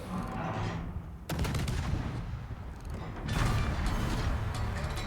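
Naval guns fire in a World of Warships battle, a close, loud stretch of booming, rattling salvos with mechanical creaks and clanks, with one sharp blast near the start and another heavy surge later.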